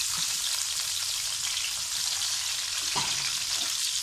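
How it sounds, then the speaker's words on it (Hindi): Half a kilo of onions frying in hot ghee, a loud, dense, unbroken sizzle with a couple of low knocks near the end, close up and with no one talking. "प्याज को फ्राई करते हैं"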